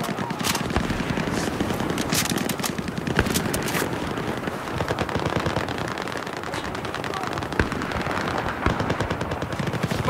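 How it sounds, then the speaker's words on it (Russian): Rapid machine-gun bursts from an enemy gunner in a war video game, dense and continuous throughout, with sharp cracks standing out over a steady barrage and a voice calling out beneath the gunfire. "Вижу вражеского пулеметчика!"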